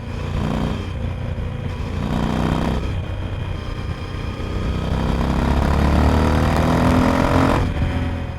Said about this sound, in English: revealing all kinds of texture in the exhaust note